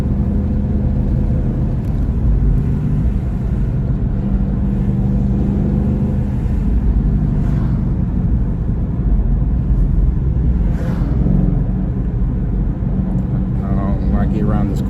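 Ford Mustang GT fitted with a GT500 wing, a six-speed, pulling hard, its engine rumbling loud and continuous from inside the cabin, with a voice talking over it.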